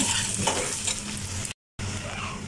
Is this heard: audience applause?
no